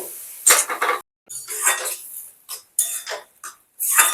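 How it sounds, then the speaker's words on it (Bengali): A spoon stirs boiled chana dal with potatoes in a cooking pot. There are several close bursts of metallic scraping and clinking with brief pauses between strokes. "আবার একটু নাড়াচাড়া করে নেব"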